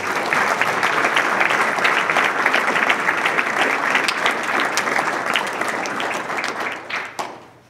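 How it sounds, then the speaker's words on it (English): An audience at a Days of Remembrance equal opportunity event at Fort Irwin applauds soldiers and civilians: dense, sustained clapping from a crowd filling the room, tapering off and fading out at the end. "Let's give the soldiers and civilians of the Fort Irwin Dental Clinic Command a round of applause for their efforts in sharing these stories."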